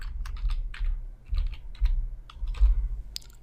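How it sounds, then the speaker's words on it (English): A password is typed on a computer keyboard: a short run of separate, close key clicks in an uneven rhythm, no talking. "So you need to type in the password you set during the installation"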